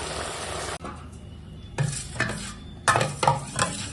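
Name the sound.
stirring boiled masoor dal with turmeric in a pot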